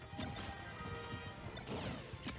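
Grenade explosions and hits during a Super Smash Bros. match with Snake, a busy jumble of crashes and sharp impacts over continuous game noise and music.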